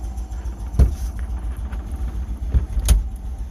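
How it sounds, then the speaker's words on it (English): A BMW Isetta microcar's engine idles with a low, steady rumble, broken by a few sharp clunks and knocks. "Okay, the car is warming up."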